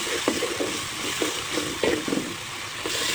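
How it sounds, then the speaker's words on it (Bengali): Turmeric, salt, chili and coriander powder with mashed potato being stirred and fried in a pan for an egg-and-potato curry, a steady sizzle broken by repeated scraping strokes of the spoon, close and alone. "ভালো করে কষিয়ে নিতে হবে"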